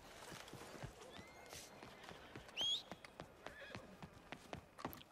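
Horse in Red Dead Redemption 2, hooves clip-clopping in an irregular trot with a loud whinny partway through, fairly close, faint outdoor ambience behind.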